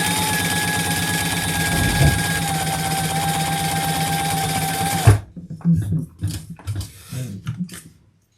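A sewing machine top stitches a bag in a loud, steady mechanical whir with a rhythmic needle rumble, then stops abruptly, leaving short handling knocks and rustles.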